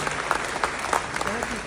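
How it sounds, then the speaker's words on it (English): A dinner crowd at a county Republican committee event claps, with brisk individual claps standing out in a short burst of applause. "give yourselves a round of applause for supporting the Knox County Republican Committee and conservative government"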